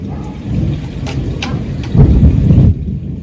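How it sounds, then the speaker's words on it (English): Deep rolling thunder rumbles through steady rain, swelling louder near the end before fading. "Listen to that thunder."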